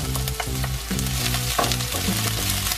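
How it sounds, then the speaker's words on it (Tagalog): Ginger and garlic sautéing in a pan for shrimp in coconut milk, a loud continuous sizzle broken by repeated ladle scrapes and knocks, close up with no talking. "Bigisir tayo ng luya. Gamit ang aking mahiwagang sandok. Sunod natin ang bawang."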